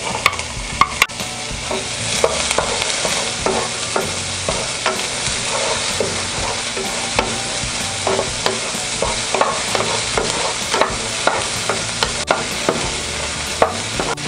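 Garlic and onion sauté in oil in a pan, a continuous loud sizzle with frequent scraping, tapping stirs at an uneven rhythm, close up and without talk.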